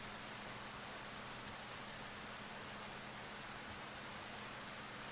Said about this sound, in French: j'entends quasiment plus rien à cause de la pluie